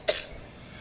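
A single short, sharp cough close by, followed by quiet room tone.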